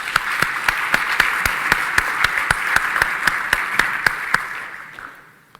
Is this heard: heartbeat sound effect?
no